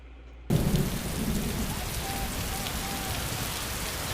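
Steady heavy rain pours in a storm scene with a low thunder rumble, starting abruptly after a quiet moment and holding as a dense, constant wash.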